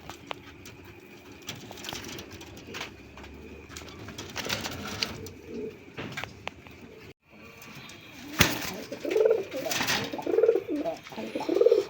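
Rajshahi Giribaz and Rasgolla pigeons coo in soft, repeated throaty bursts, growing louder and more frequent toward the end, while people talk nearby amid rustling and handling noises.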